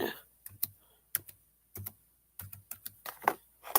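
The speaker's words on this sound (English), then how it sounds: "I'm trying to type one in." Someone typing on a computer keyboard, close and quiet, irregular clusters of crisp key clicks separated by short pauses, with no talking over it.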